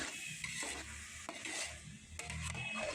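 Cashews and peeled almonds are roasted in a pan of carrot halwa, with a spoon scraping and stirring in rhythmic strokes over a soft, continuous sizzle close by.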